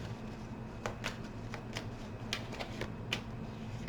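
Tarot cards being shuffled close by in a quiet room, a run of soft riffling flutters and light slaps spaced irregularly, with no one talking.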